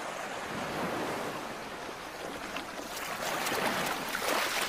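Ocean waves break on a sandy coastal beach where grunion fish spawn, a steady broad wash of surf swelling slightly louder toward the end, with wind noise and no voices.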